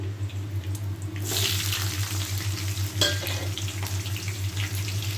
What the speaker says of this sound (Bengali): ক্যাপসিকামটাকে একটু সটে করে, বেশি ভাজবো না, অল্প ভাজা।